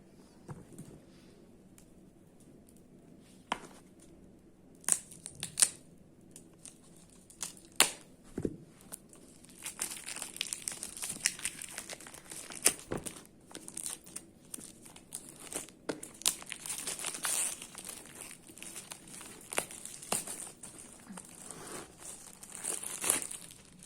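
A new Yoginis oracle card deck is unpacked and unwrapped, with close, quiet crinkling and tearing of plastic wrap, scattered sharp rustles and crackles that thicken into steady crumpling over the second half.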